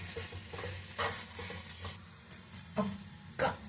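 Onion mixture with tamarind and coriander cooks in a pan with a soft steady sizzle, broken by a few scraping stirs of a spoon.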